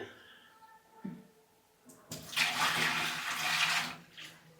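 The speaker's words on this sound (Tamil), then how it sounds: "இதை கீழே ஊற்றிட்டு இதை நல்லா வாஷ் பண்ணிட வேண்டியதான்" Water splashes and pours as a reverse-osmosis filter housing is rinsed out, a loud broadband gush that starts partway through and runs steadily to the end, alone without talk.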